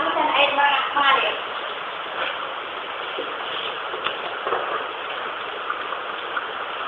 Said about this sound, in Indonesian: Langkah selanjutnya mencuci tangan dengan sabun dan air mengalir.